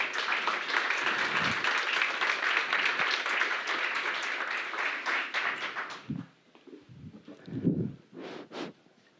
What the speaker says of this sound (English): More hands of applause, please.